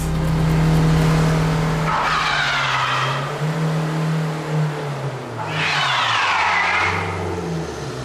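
A car with traction control switched off skids on ice, its engine droning loud and close while two long, wavering tyre squeals rise over it.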